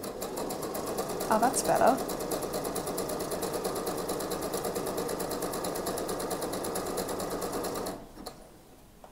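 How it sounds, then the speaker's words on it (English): A sewing machine runs steadily, stitching the skirt seams of a wedding dress with an overlock-style edge stitch, a fast close mechanical whir that stops near the end while someone speaks briefly over it. "I found the good stitch that I want to basically overlock the edges without an overlocker"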